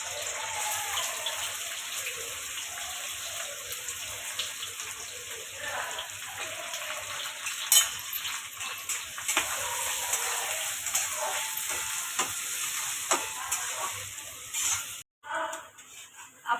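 Chopped onions sizzling in a generous amount of oil for Mumbai-style pav bhaji, a steady close hiss and crackle running throughout with a few brief clatters and a short break near the end.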